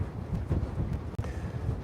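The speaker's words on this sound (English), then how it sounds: "I want to unplug the mic to show you how windy it is" Strong gale blowing straight onto an exposed microphone outdoors during a lightning storm: a continuous loud, rumbling roar with heavy buffeting gusts and no other sounds.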